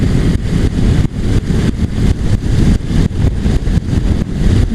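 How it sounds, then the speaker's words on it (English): Honda NC750X motorcycle engine hitting the rev limiter repeatedly, a loud, close, choppy roar broken into rapid stuttering cuts over several seconds, no voices. "That's the rev limiter again."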